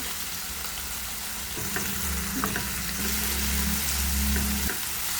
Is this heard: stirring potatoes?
yes